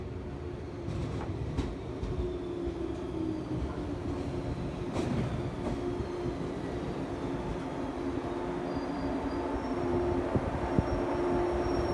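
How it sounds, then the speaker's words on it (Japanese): A Shinano Railway 115 series train arriving at a station rumbles steadily with low mechanical drone and occasional squeals and clanks, continuous and moderately loud with no voices. "まもなく列車が参ります。"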